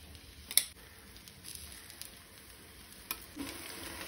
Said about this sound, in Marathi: थापून घेतिल्ले थालीपीठ तव्यार घालूया।